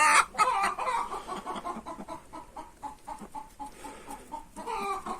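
Chickens cluck steadily and close by, several birds overlapping in a busy, continuous chatter with no talking.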